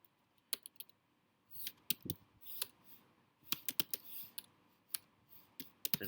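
Quick, irregular clicks of typing on a computer keyboard while writing JavaScript code, sounding close and crisp with short pauses between bursts of keystrokes.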